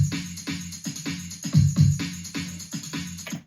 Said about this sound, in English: So this is a drum set that I have just chopped up and kind of put in the song, and it sounds like this.